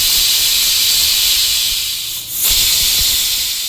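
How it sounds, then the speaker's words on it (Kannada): Steam hisses steadily and loudly from a pressure cooker of soppu pulav on the stove, a continuous high rushing whistle that dips briefly in the middle before resuming. "1-2 ವಿಷಲ್ ತಗೊಳ್ಳೋಣ"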